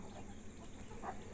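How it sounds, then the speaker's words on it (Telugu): Native country chickens clucking softly at a farm, a brief faint cluck heard against a steady low background hum, with no voices. "ఇక్కడ ఉన్నాయి కదా కోళ్ళు"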